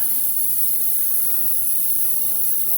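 Airbrush spraying candy-color paint over a monochrome base, a continuous, even hiss at close range that holds steady without a break.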